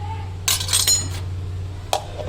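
Ice cubes clinking and rattling in a dish: a loud cluster of bright clinks, a pause, then one more sharp clink, all close by.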